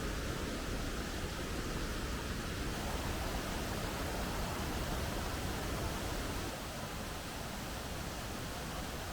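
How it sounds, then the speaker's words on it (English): Steady, dense roar of a massive waterfall near Luang Prabang, Laos, heard up close and continuous, with no voices. "Welcome to the first part of this massive waterfall."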